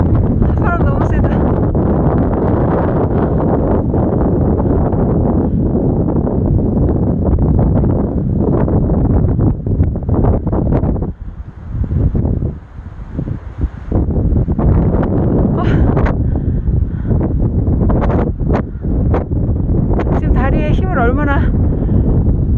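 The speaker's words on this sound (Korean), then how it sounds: "바람 너무 세다." Strong gusty wind buffets the microphone on an exposed rock high on Bukhansan mountain in spring, a loud continuous roar with brief lulls, while a person speaks intermittently under it.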